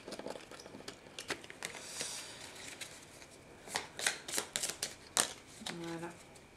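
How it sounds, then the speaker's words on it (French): Oracle cards being shuffled by hand, a soft papery riffle of repeated flicks and taps that grows louder toward the end, over a faint background hiss. "je vais tirer, je ne sais pas combien de cartes de l'oracle Ho'oponopono"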